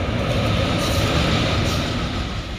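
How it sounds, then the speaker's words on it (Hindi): A fast freight train thunders across a railway bridge over a river, its loud, steady rumble and wheel clatter filling the whole stretch without a break. "जैसे ही तेज रफ्तार मालगाड़ी रेलवे ब्रिज पर पहुंचती है"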